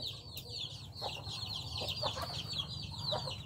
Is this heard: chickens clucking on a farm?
yes